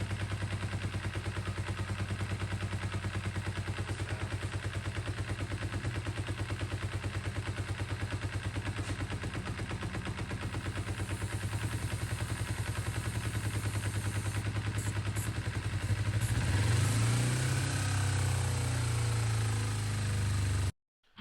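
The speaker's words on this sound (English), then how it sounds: "The question is the knock normal for these 250 Kawasaki's at low RPMs?" A Kawasaki 250 Ninja sport bike engine idles at low RPM with a rapid, even knocking tick throughout, close and steady, with the revs briefly rising near the end before it cuts out.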